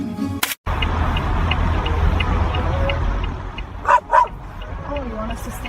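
A big dog barks and whimpers through low rumbling background noise, giving a few short yips and whines, while people talk nearby.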